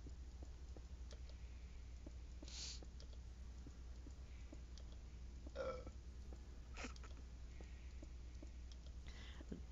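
During a livestreamed computer game session, a low belch rumbles faintly in the room, heard over steady electrical hum and scattered keyboard and mouse clicks.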